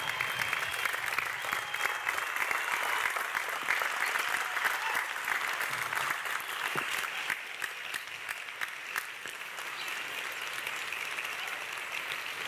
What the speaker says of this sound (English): acknowledge their support of their loved ones with a hearty round of applause